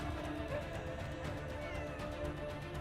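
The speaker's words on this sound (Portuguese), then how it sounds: "Gato." A cat meows in a video game demo shown at Gamescom 2023, steady and moderately loud over a constant layer of game music and ambience, with no pauses.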